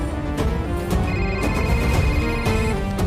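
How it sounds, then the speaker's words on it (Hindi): A phone rings with an incoming call during a tense police scene in a Hindi-dubbed South Indian action film, the ring running steadily under loud background music with no voices. "उसी का फोन आ रहा है सर।"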